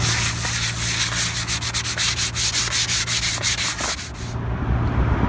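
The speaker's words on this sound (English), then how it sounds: "we're just going to go ahead and sand off some of the loose flakes of paint here" Loose paint flakes are sanded off a metal bollard by hand, rapid rhythmic scraping strokes, close and loud, in a steady back-and-forth burst that stops near the end.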